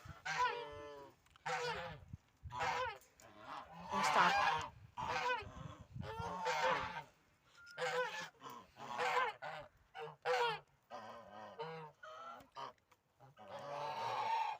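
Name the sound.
geese honking on a village farm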